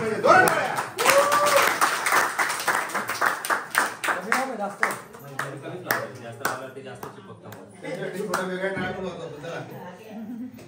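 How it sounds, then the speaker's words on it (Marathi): A group at a Republic Day gathering claps in a quick rhythmic run for several seconds, then the claps thin out as chatter and chuckles take over. "त्याला प्रेरणा भेटली पाहिजे. दोन टाळ्या."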